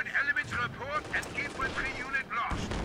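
Light machine gun and rifle fire in Company of Heroes 2, with a captured Obersoldaten LMG cutting down Volksgrenadiers. The shots crackle underneath steady talking throughout.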